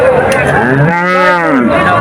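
Cows at a cattle market low in a single loud, close moo lasting most of the moment, rising and falling in pitch.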